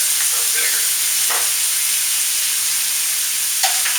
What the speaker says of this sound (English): Now what I'm going to do is put a heaping tablespoon of balsamic vinegar.